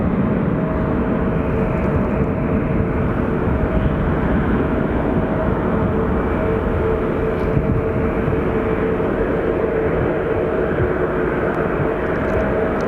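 An American Airlines jet departs Phoenix Sky Harbor Airport with a loud, steady engine roar that holds constant throughout and has no voices over it.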